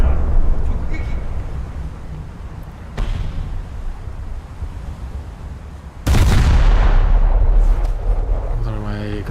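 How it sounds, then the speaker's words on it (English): Anti-air guns firing from a battleship in a naval video game: rapid gunfire and heavy artillery-like blasts, with a sharp, louder burst of fire partway through, under game sounds. "I'm hearing my anti-air guns open up on something"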